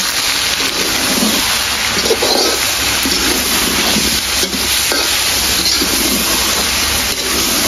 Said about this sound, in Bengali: রসুন কুচি, দিয়েছি কাঁচামরিচ কুচি, দিয়ে একটু ভেজে নেব।